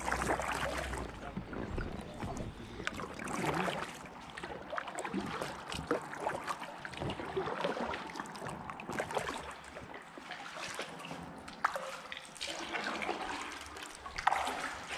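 A Gumotex Twist 2 inflatable kayak is paddled along Pocklington Canal, with continuous watery splashes, drips and trickles from the paddle strokes close by, and no talking.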